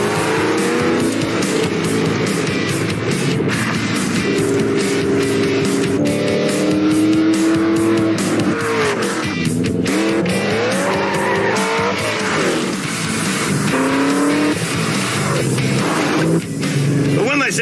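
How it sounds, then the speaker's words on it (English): A Ford GT, a race car built for the road, drives hard with a loud, close engine whose pitch climbs and falls, while tires squeal and skid in repeated bursts. "This thing is actually a race car built for the road."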